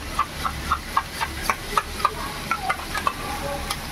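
Two spoons of homemade sour yogurt hit a hot cooking pan and sizzle steadily, with a regular run of soft stirring clicks on top.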